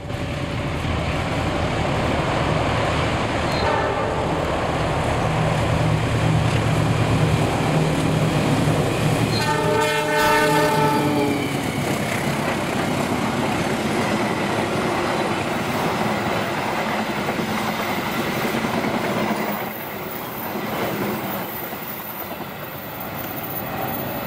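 The Pandalungan passenger train in thematic livery rolls past loudly and close, with steady wheel rumble and rhythmic clickety-clack over rail joints, a brief horn toot near the middle, then the noise eases as it draws away.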